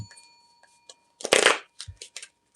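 Tarot cards are shuffled in a few quick papery bursts, with one louder riffle in the middle, close up and otherwise quiet.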